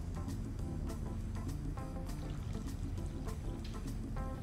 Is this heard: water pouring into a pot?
yes